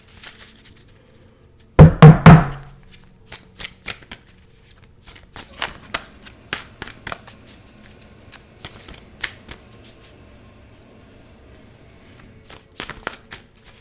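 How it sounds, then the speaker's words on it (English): A deck of playing cards is shuffled close up, opening with a sharp riffling burst and followed by scattered light flicks, taps and handling sounds, with no voices. "Let's give this a little bit of an extra shuffle."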